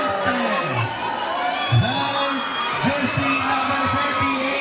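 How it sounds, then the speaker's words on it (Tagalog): A basketball crowd at a local league finals game cheers wildly, loud shouts and whoops filling the gym continuously, with excited voices rising over the roar. "The crowd goes wild."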